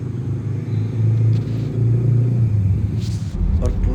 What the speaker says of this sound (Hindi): और पूरे रास्ते में इतना ट्रैफिक